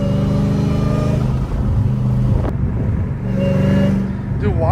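Straight-piped, supercharged Dodge Hellcat Redeye engine revving loudly and steadily throughout, with a deep rumbling drone that dips briefly twice, heard close up as if from inside the car.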